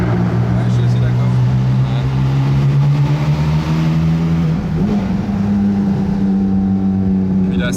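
Ferrari Daytona SP3 engine and exhaust with the valves open, a loud steady idle-like drone with strong low harmonics that shift pitch midway, with a person talking over it throughout.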